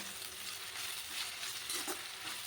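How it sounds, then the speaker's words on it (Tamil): Chopped onions and green chillies sauté in a hot pan for a kurma, giving a steady, close hiss of sizzling oil throughout with faint stirring bumps and no talk. "இந்த வெங்காயமும் பச்சை மிளகாவும் வதங்கிடுச்சு"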